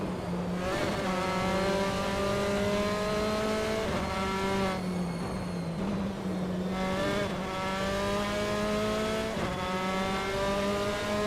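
Formula 4 race cars lap Zandvoort in Assetto Corsa, engines screaming in close pursuit with rising and falling revs, shifts and a brief tire squeal, loud and continuous throughout.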